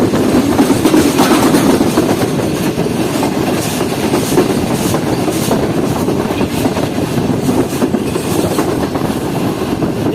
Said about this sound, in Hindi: ट्रेन हमारी अप्रोच कर रही है सादकाबाद रेलवे स्टेशन की तरफ